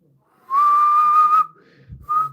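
A person whistles a single sustained, fairly loud tone held for about a second, then breaks off into breathy sounds and gives a brief second whistle at the end.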